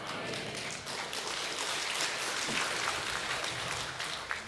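A church congregation claps during a sermon, a steady, even wash of many hands that holds for several seconds at moderate distance, with a faint voice underneath.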